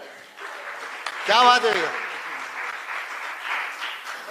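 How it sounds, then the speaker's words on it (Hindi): A crowd at a Hindi comedy poetry show breaks into sustained applause, a dense, steady patter of many hands that carries on to the end, while someone speaks briefly over its start. "एक बार ताली बजाओ।"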